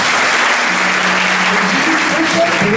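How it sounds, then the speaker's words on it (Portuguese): A church audience claps for the music ministry at a religious gathering, a dense, even burst of applause that holds for about three seconds, with a voice faintly audible underneath. "Vamos aplaudir o Ministério de Música."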